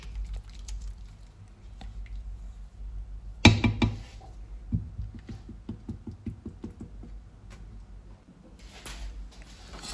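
Creamy tapioca pudding being mixed in a pot, soft wet squelching and spoon taps at close range, with one sharper knock partway through and a faint background hum.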